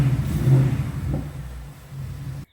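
A 2024 Ford Mustang GT V8 fitted with Steeda air filters and airbox covers revs in a deep, muffled rumble that swells briefly and then settles, ending with a sudden cut.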